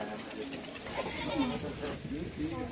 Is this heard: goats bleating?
yes